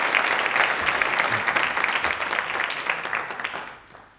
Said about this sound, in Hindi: जोरदार ताली हो जाती